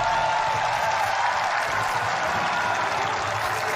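An esports arena crowd cheers and applauds a clutch 1v3 play in a Valorant match, a dense, steady roar of clapping and cheering filling the whole stretch.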